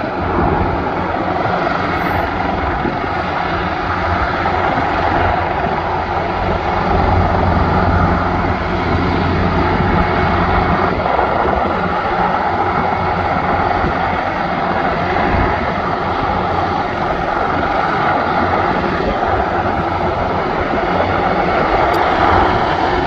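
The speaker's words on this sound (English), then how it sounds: "Some assistance from the helicopter" A continuous loud helicopter roar drones on without letup, steady and close, with no voices over it, as the helicopter lifts an injured hiker at a volcano at night.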